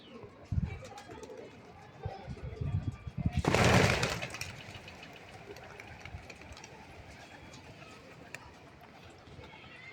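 Pigeons are released to fly for the morning, and a burst of wing flapping rises briefly. Faint cooing and background noise follow, with people talking throughout.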